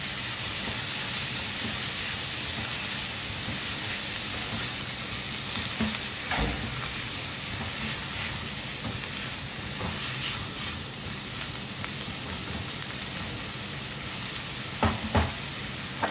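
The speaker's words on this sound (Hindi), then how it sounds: "हम इसको सिर्फ 2-3 मिनट सौते होने देंगे" Grated onion sautés in a hot pan, a steady dense sizzle and crackle that runs throughout, with a few sharp stirring knocks near the middle and end, no talking.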